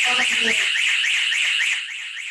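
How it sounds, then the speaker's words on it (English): A loud electronic alarm siren wailing steadily, with a rising-and-falling warble throughout; a brief low beeping tone at the start. "Now the alarm is on. And after 10 seconds, the siren is on."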